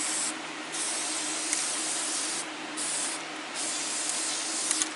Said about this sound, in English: now you can see he's spraying out the orange